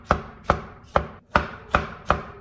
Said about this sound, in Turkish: Çilekleri de ince ince doğrayacağım.